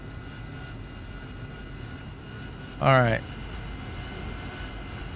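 An AV-8B Harrier jet engine runs in the DCS flight simulator as a steady, moderate drone and whine throughout, while a voice briefly speaks near the middle.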